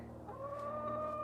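Several chickens clucking in a backyard coop, a steady layered murmur of soft calls with a sustained higher tone rising partway through, close and continuous.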